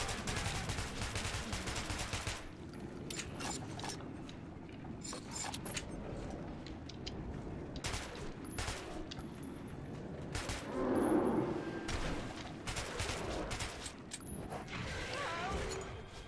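Gunfire in the video game Metro 2033 crackles in repeated sharp bursts throughout, fairly loud and steady over a dense in-game background.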